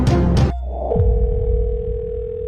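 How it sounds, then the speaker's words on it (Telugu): A telephone call goes unanswered and a steady, sustained electronic line tone hums on alone, starting after a brief burst of sound. "హలో, ఫోన్ ఎత్తండి సార్."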